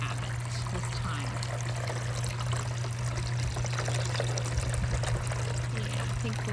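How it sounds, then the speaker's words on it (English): Water from a pump-fed waterfall fountain trickles and pours steadily, a constant close wash of splashing over a low pump hum. "hopefully it trickles slow enough to where it doesn't overflow"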